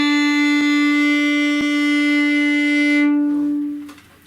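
A single violin note drawn with long, steady whole bows, holding one even pitch with rich harmonics for about three seconds before fading out, played alone.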